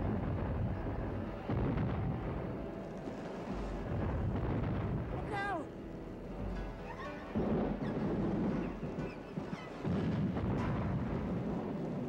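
A rising sci-fi explosion buildup effect, a loud rumbling, roaring swell with debris-like crackle and a high descending whine, heard alongside voices in a tense scene of a craft being pulled out of orbit by the sun.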